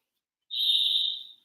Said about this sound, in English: that bird, I always think the bird sounds like a school whistle